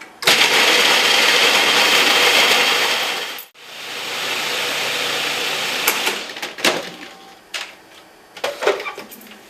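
A blender roars loudly and steadily while blending a raw vegan burger mixture, briefly dipping before resuming its whir, then winding down into scattered knocks and clatter near the end.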